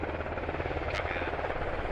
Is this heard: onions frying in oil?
no